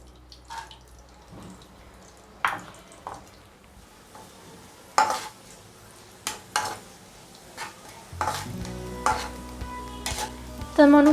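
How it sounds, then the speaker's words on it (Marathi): Raisins fry in a pan for gond laddoos, with a soft sizzle under repeated sharp stirring and scraping taps, a few water-like drips and a louder burst of sizzling near the end; no talking. "आता आपण मनुके फ्राय करून घेऊयात"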